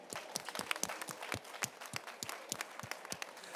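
An audience at an industry and climate conference claps for a panel, with distinct sharp hand claps in a loose, uneven rhythm, fairly close and spread across several seconds.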